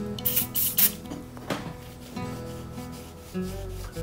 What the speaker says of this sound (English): Just spray it on a little bit of rag.